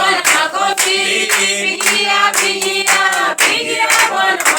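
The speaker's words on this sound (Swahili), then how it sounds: "Pigia Bwana makofi, pigia Bwana makofi, sababu ni mwema" Hands clap in a steady rhythm along with a sung gospel praise song, the sharp claps sitting loud and close over the singing voices throughout.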